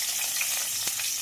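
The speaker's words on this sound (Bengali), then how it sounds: "পেঁয়াজটা একটু ভাজা ভাজা হোক।" Chopped onion frying in hot oil in a pan after vetki fish has been fried, giving a steady close hiss of sizzling with a faint stir near the end, and no voices.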